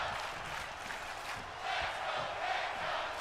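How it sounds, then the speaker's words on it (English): A big arena crowd in the wrestling game WWE 2K26 roars and chants in a continuous, rolling wash, swelling slightly midway and staying loud throughout, with no clear voices above it. "you can hear the crowd, and let's go Penta"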